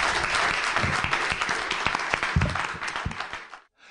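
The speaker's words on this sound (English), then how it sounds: "Let's applaud the author." Live audience at The Strand bookstore applauds the author Seth after a reading, a dense steady burst of clapping that fills the room and cuts off abruptly near the end.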